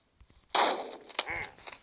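Gunfire between soldiers in a Minecraft game, heard as a sudden loud burst of shots followed by a few quicker crackling reports over roughly a second.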